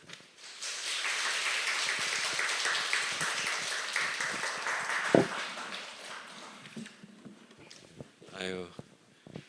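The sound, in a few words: congregation applauding to welcome the pastor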